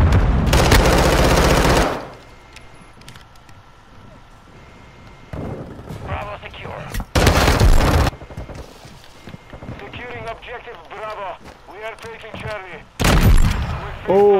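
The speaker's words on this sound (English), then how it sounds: "Got a nasty headshot with the lever action." Lever-action rifle shots in the shooter game Modern Warfare II ring out in loud bursts amid other gunfire, with quieter stretches of game noise in between.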